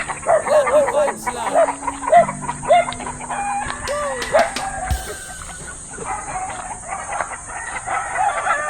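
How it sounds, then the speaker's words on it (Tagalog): Chickens cluck busily on a farm while a rooster crows nearby, the calls loud and close and overlapping, with a few other birds and some background voices. "Yan, mga manok na ni Boss Richard dyan."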